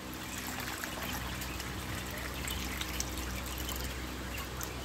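Steady trickling stream of water filling ranch watering troughs, a continuous close pour and dribble with no talk.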